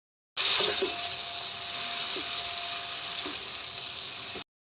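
Whole spices such as cinnamon and crushed black cardamom fry in hot oil for mash daal, a dense, steady sizzle that starts suddenly and holds loud and even, with a few faint stirring clinks and no speech.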